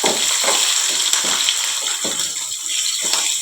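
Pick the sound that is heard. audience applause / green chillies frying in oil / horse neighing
green chillies frying in oil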